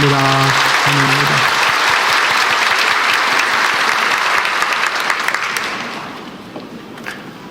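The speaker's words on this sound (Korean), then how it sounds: "우리 청년인데 우리 한번 크게 박수로 주님의 이름으로 환영합니다." A church congregation claps loudly together to welcome a young man, sustained dense applause that fades toward the end, briefly over a sustained tone at the start.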